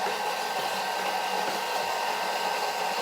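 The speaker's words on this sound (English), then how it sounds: "now all it's doing is it's mixing and creating our delicious mayonnaise" A kitchen machine mixes avocado oil mayonnaise with a steady, even whirring drone that stays constant and fairly close throughout, with no voices.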